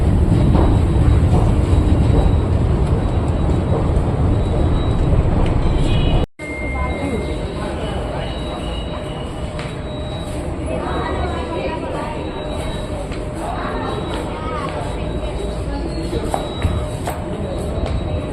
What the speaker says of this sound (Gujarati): મેટ્રો આવી ગઈ છે અમારી.